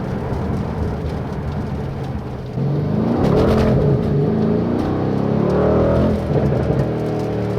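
A 2020 Mercedes-AMG C63 S estate accelerates with its wheels slipping, the engine note rising from a low rumble into a louder, building roar that holds steady as the car pulls hard, close and continuous.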